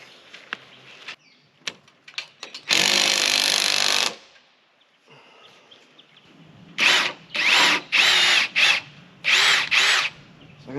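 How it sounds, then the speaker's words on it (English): Power drill whirring in several bursts into a log: one long sustained run, then a series of shorter, evenly spaced pulses biting into the wood, close by. "So I'm going to drill these pointing down, so I actually pull it tighter as I screw it in."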